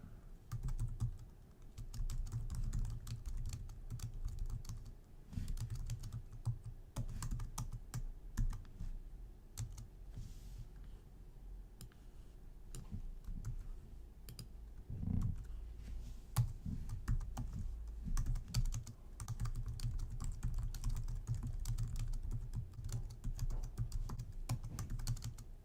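Steady keyboard typing on a computer keyboard as code comments are entered, a continuous run of close, quick key clicks with no talking.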